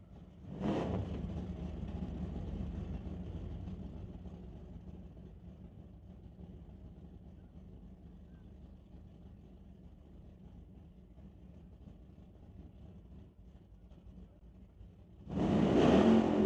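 The SBB Racing Dodge Dart drag race car sits at a bracket drag racing event, its engine rumbling at a steady idle for a long stretch. The engine bursts louder near the end, heard at a distance with no talking.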